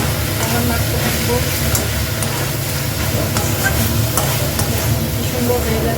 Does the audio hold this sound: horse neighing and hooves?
no